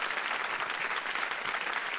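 Dense, steady applause from an audience at an Italian entertainment show fills the full two seconds at an even level, with no voices on top.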